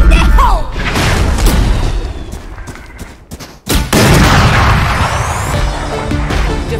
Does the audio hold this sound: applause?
no